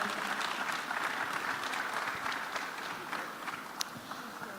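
Sustained applause from an audience in a conference main hall at a data and AI summit, welcoming a speaker onstage; dense, even clapping throughout, moderately distant.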